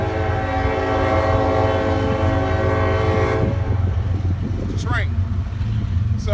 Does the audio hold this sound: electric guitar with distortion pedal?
no